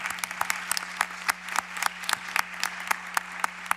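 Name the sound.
applause for a deputy at a book launch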